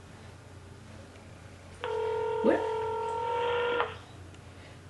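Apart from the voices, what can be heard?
telephone call ringing, waiting for pickup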